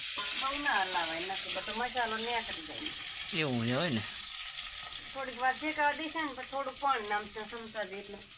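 Brinjal pieces sizzle in an oil pan while being stirred for a sambharo, a soft continuous frying hiss running low beneath a woman's steady chatter throughout.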